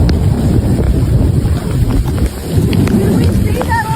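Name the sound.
heavy rain pouring and water rushing down mountain slopes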